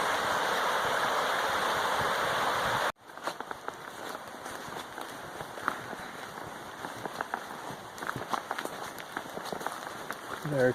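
A river running beside a flat stretch of the Appalachian Trail, heard as a loud, steady rush of flowing water. Partway through, the sound cuts and returns slightly quieter, with footsteps and small knocks over the continuous flow.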